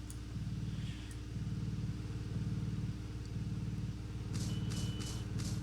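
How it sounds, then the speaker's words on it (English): Jeep driving in the Roblox game Tower Battles, a low buzzy engine drone pulsing in a repeating rhythm, fairly quiet and steady, with a few brief higher clicks and beeps near the end. "this jeep should be coming out any second."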